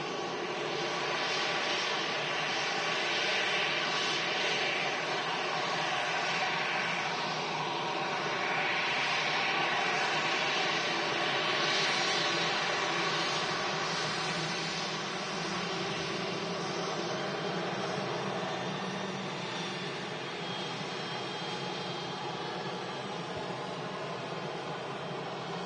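A jet airliner arrives on runway 23 right at Manchester Airport, a continuous broad engine roar that swells and slowly fades, steady and moderately distant, no talk.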